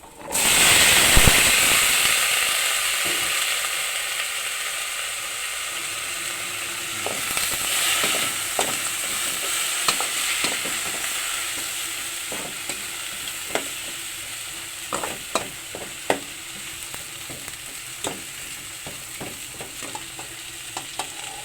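Squash pieces hit sautéing shrimp in a hot pan with a steady, close sizzle, then a long stretch of continuous frying hiss broken by frequent clicks and scrapes of stirring.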